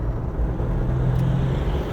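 A Toyota LandCruiser 70 Series four-wheel drive rounds a corner at modest speed, its engine giving a steady low drone with a faint rise in pitch partway through, close and fairly loud, without speech.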